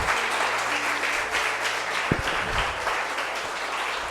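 A church congregation applauds during a sermon, sustained, dense clapping from many hands filling the room evenly, with a faint low hum of instruments beneath.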